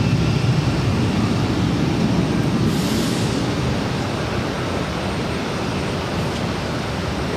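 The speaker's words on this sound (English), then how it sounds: "This is American Airlines 2616 taking off to Philly on the A321." An American Airlines A321 airliner takes off, producing a steady, broad engine roar at a distance that stays loud and even throughout.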